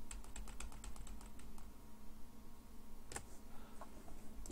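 Computer keyboard keys are pressed in a quick burst of light clicks, then fall silent, with a couple of isolated taps later, heard close and faint over a low background hum.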